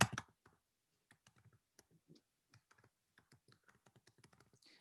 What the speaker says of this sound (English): let me just type in a fake name